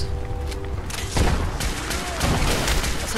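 Gunfire and explosive booms in the video game Fallout 4, a dense loud fusillade of repeated shots with bursts of heavier impact, continuous over the whole stretch with faint talk beneath.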